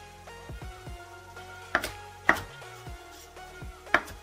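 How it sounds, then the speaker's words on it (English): A sharpened kitchen knife rough-chops fresh herbs on a board for pressed juice, giving a few sharp, distinct knocks spaced irregularly over a low, steady background hum, with no talking. "Give a rough chop to my herbs."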